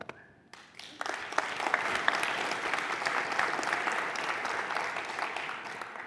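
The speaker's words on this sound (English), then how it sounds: "So I appreciate the applause, but that's not the exciting part." Applause from a conference audience at a Go programming conference, rising abruptly after a brief quiet start into steady dense clapping that fills the rest of the moment, fairly close and loud.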